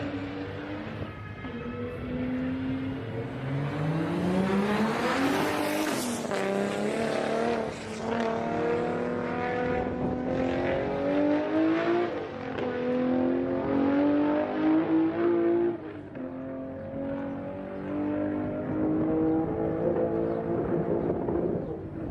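A Toyota Supra accelerating hard down a drag strip: a loud, sustained engine roar climbing through rising gear sweeps, with a brief shift break midway before pitch climbs again, continuous and close throughout.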